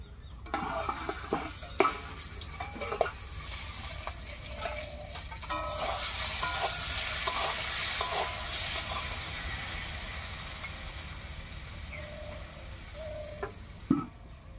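Rui fish curry with potato and taro cooking in a pan, a continuous sizzling and bubbling hiss with scattered stirring knocks and clinks against the pan.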